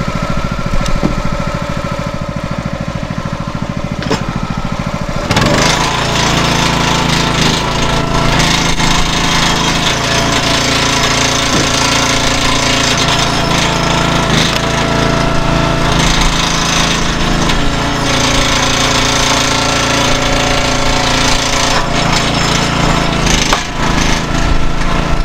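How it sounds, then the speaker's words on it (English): A hydraulic log splitter with its engine running loud and steady throughout, splitting wood outdoors on a cold morning, with a constant engine drone and heavier cracking and straining bursts through the middle. "part of the reason I went ahead and switched to the hydraulic log splitter."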